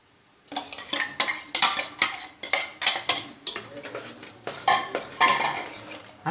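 Ground paste is stirred into cooked manathakkali greens kootu in a pot, giving close, repeated scraping strokes and spoon clinks against the metal in a steady rhythm, with no talking.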